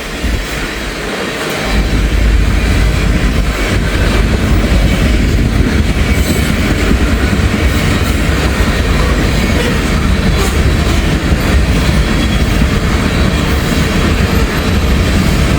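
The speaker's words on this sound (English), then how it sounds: "we got a train meet right off the bat" Two freight trains meet and pass, one of them headed north as L425 and the other long; a loud, sustained rumble of rolling wheels and rattling cars builds quickly and holds steady, close by, with faint clicking rail joints.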